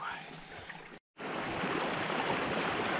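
Mountain creek near Manang, Nepal, rushing steadily as a broad, loud wash of flowing water, with a brief dropout partway through before the torrent resumes at full strength.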